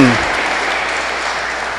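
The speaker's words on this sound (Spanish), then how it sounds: "un fuerte aplauso a todos los papás que fueron obedientes y que también participaron en la peregrinación" Applause from a congregation at a children's Mass in a parish church, a brief dense burst of clapping that follows the tail of a spoken voice and continues evenly.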